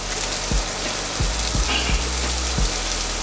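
Onions sizzle steadily on a hot Steelmade griddle, with a dense crackling fry and a few soft scraping or tapping hits from a spatula.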